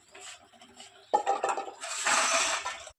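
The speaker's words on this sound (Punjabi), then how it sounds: "ਬਸ ਜੀ ਆਪਾਂ ਭਾਂਡੇ ਚੱਕ ਲਈਏ" Dishes, pots and utensils being gathered up in a home kitchen after cooking okra, clinking and knocking in irregular close bursts, with a denser clatter and rattle building toward the end.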